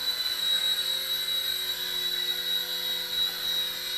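A Silverlit Spy Cam II RC helicopter flies and pirouettes nearby, its small motor and rotor giving a steady high whine and buzz that holds nearly constant throughout, with no talking.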